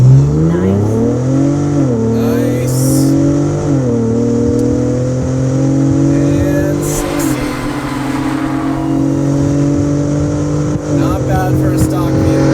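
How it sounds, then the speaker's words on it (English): Ford Bronco Raptor with a 3-liter twin-turbo V6 launching from a dead stop on a test track with five people aboard, the engine revving loud and close with rising pitch through several gear shifts. "It definitely sounds a lot more aggressive than the regular Bronco, and it has a bigger engine."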